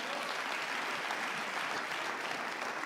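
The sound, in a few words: studio audience applause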